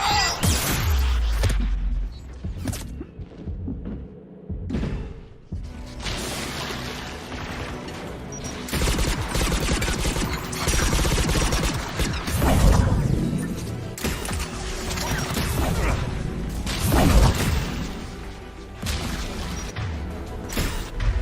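Anti-aircraft guns firing in the video game Mass Effect 3, a chaotic run of loud booming blasts and crashing impacts that come in bursts with brief lulls, dense and close, with no talking.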